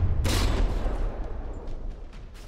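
A single gun keeps firing aboard a damaged warship in the naval combat game From the Depths, a loud boom followed by a rumbling, crackling run of shots and distant impacts.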